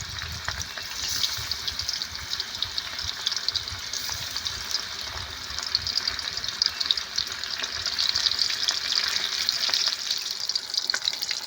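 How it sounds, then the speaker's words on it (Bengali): Bombay duck (lote) fish frying in hot oil, a steady close crackling sizzle that holds throughout with occasional sharper pops and faint stirring. "তেল তো গরম হয়ে গেছে দিয়ে দেব দিয়ে বেশ একটু ভালো করে ভেজে নেব"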